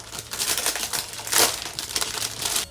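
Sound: tearing open packaging of a rabbit pencil case

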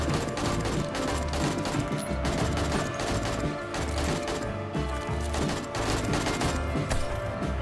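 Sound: automated turret firing at zombies in 7 Days to Die video game

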